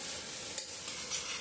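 Grated carrot for gajar halwa stirred in a pan, a short burst of soft continuous sizzle with light scraping strokes, close and alone.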